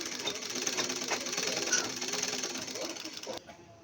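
Sewing machine stitching the seam of a churidar pant, running steadily at close range for about three seconds before stopping abruptly.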